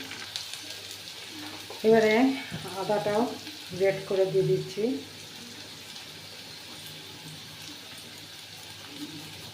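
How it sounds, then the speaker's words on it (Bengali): Carrots stir-fried for khichuri in a pan, giving a steady low sizzle throughout while someone talks over the middle part of the clip. "গাজরটা দিয়ে দিলাম এবারে ভালো করে ভেজে নিই"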